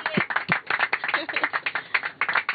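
A few people clapping at a welcome ceremony aboard the space station for a private Ax-2 crew, with sparse, irregular hand claps close by, likely over brief voices.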